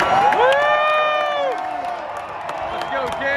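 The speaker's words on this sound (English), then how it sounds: "He got quite a loud cheer." A crowd cheers and whoops in the stands at a Clemson football spring game, a broad roar with rising shouts and whistles, heard from among the spectators.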